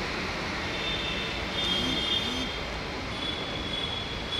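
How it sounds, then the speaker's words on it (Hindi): Interior of a moving metro train: a steady, muffled rumble of wheels and motors with a faint tonal whine, continuous and even throughout. "अभी मेट्रो में जा रहा हूँ"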